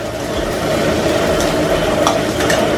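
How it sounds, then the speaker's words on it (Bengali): Onions frying in a pan for a Bengali-style Bombay duck dish, giving a steady, close sizzle with light stirring scrapes throughout. "দেখছেন পেঁয়াজটা অনেকটাই ভাজা ভাজা হয়ে গেছে, এর থেকে বেশি আর ভাজবো না।"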